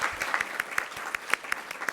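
Applause from a meeting audience at the launch of a No Plastic campaign, a steady patter of many hands clapping with sharp individual claps standing out, moderately close, with no talking.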